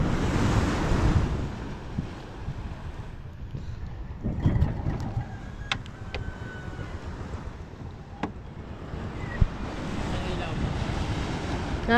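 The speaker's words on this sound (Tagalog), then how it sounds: "Medyo malaki po ang alon guys." Big sea waves wash and surge around a small fishing boat out on open water, a steady rough rush of surf mixed with wind buffeting the microphone, with occasional splashes and faint background voices.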